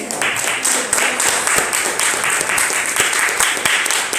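Church congregation clapping in praise during a Portuguese-language worship service, a steady dense burst of many hands filling the room, fairly loud and continuous with no talk over it.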